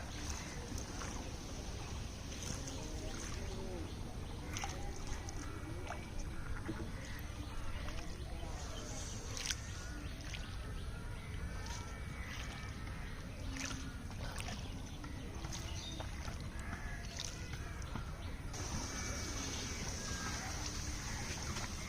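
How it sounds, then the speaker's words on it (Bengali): A fishing boat moving across open water in a rural village setting, a steady broadband wash of engine and water noise running continuously throughout, with occasional faint bird calls and no talk. "মাছ ধরা নৌকা।"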